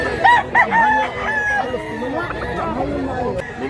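A rooster crows loudly and clearly at close range, with the bird's calls overlapping a backdrop of voices and people talking.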